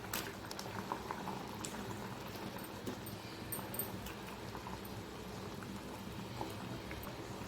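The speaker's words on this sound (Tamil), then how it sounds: "இப்போது குழம்பு நல்லா கொதிச்சிடுச்சு" Fish curry (kulambu) made with sheela fish boils in a pot, giving a steady, soft bubbling and popping that continues evenly throughout, with no one talking.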